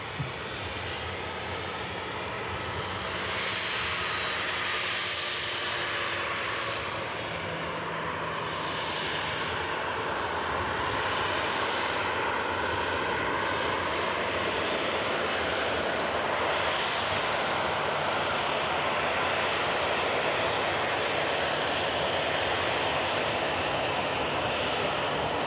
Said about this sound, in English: On final approach here at Manchester Airport.